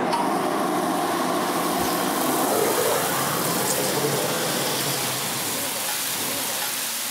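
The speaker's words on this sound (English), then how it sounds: "Oh, that sizzle." A Korean chicken dish sizzles in an iron skillet over a roaring, high-heat fire. The steady, loud hiss continues without a break, much like heavy rain, with faint talk underneath.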